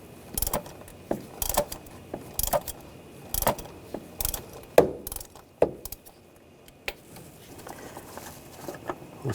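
A ratchet with a 24mm socket loosens the oil filter housing on a 2013-2022 Buick Encore, producing irregular sharp clicks and clunks at close range over a low background hum, with no talking.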